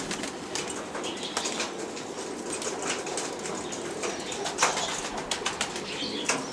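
Three pigeons from a loft of performing pigeons burst into flight outdoors, their wings flapping in repeated sharp, fluttering bursts, fairly close and moderately loud over a steady background.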